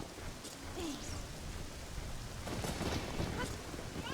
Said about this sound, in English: Okay, it's raining.